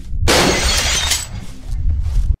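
In a video game, a shot blasts open the closed glass door of a market. A sudden loud shatter follows, with glass breaking and crashing for about two seconds before it cuts off.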